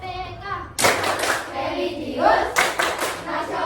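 A classroom of pupils performs the rhythmic PPK clap, a loud burst of hand claps that breaks into quick patterned groups of sharp slaps, with a few faint young voices in the room.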